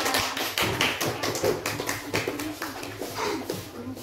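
A fifth-grade class in a classroom claps, giving a run of quick, uneven slaps from a small group of hands, close and moderately loud, fading slightly toward the end.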